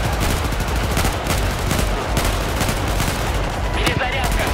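Battlefield combat gunfire: a continuous, loud fusillade of overlapping automatic shots and explosions filling the whole stretch with no pauses, chaotic and close.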